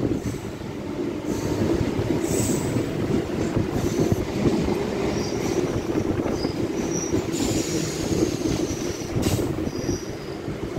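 An MMTS local commuter train in Hyderabad departs the platform, rolling steadily along the rails with a continuous low rumble, faint squeals and clicking of wheels, close and loud throughout with no voices.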